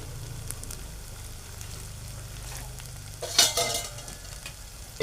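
Grated fresh coconut, about one to two spoonfuls, stirred into spiny gourd (kantola) vegetable frying in a pan, giving a steady soft sizzle with scraping stir strokes and one brief louder clatter near the end.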